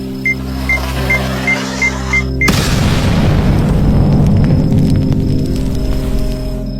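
A suitcase bomb blows up in a film scene: a short run of beeps cuts off into one sudden loud boom that rolls into a long rumbling, crackling aftermath.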